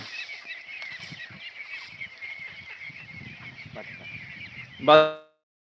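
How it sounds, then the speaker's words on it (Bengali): A constant chorus of one-month-old ducklings cheeping at a duck farm, with low chatter beneath and a single loud honking call near the end. "বাচ্চা হাঁস"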